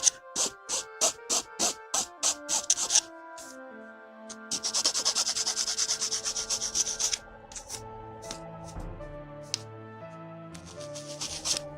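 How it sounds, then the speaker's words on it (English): A metal file rubs over a plastic Bandai 1/144 HG Gunpla model part in short, rhythmic rasping strokes, first as separate passes and then in a quicker run, with music playing beneath. "Let's just file it down then. Just gently rub it, check every now and then to make sure you don't go too far."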